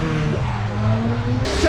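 Toyota Chaser drift car at a JDM drift event, engine droning loud and near with a slowly shifting pitch, a voice talking over it and a sudden brighter burst at the end.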